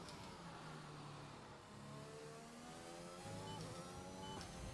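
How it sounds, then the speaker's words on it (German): A Formula 1 car in the racing game F1 2021 at the Bahrain circuit, its engine screaming at full throttle with steady high-pitched whine and stepped upshifts, continuous and loud with no talking. "Jetzt mal schauen, ob ich den Teil da oben Vollgas nehmen kann."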